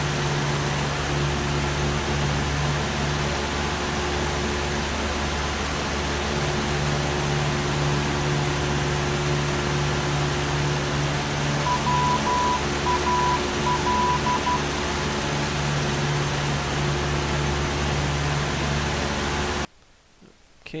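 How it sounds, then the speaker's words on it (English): Morse code identifier of the Wallasey radio beacon, a faint intermittent tone keyed in short and long bursts over steady radio hiss and hum, ending in a brief drop to near silence. "we'll listen out for the Morse code"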